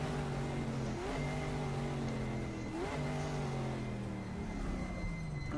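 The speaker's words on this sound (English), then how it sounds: "You see him getting the car a little bit sideways there." Race car in the sim racing game GTR 2 sliding sideways, engine droning loud and steady with pitch dips and swoops as the revs shift, continuous throughout with no voices.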